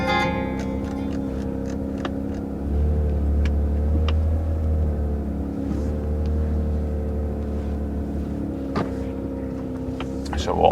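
A Brewster Green 992 Porsche GT3 Touring's engine hums low and steady from inside the cabin, swelling into a deeper, heavier rumble partway through as the car sets off on its first drive.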